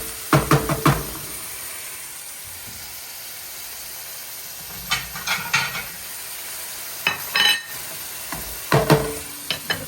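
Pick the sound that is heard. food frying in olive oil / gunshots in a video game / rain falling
food frying in olive oil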